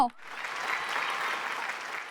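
An audience claps in steady, dense applause through a Malayalam TV show, loud and sustained after a brief voice at the very start.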